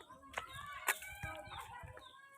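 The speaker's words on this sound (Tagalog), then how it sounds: "mga native na manok" Several native chickens cluck softly nearby in short, irregular bursts, with a few sharper calls standing out.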